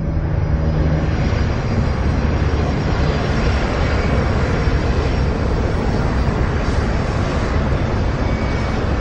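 A Crossair airliner cruising at altitude above Germany gives a loud, steady broadband engine drone that holds constant throughout with no voices.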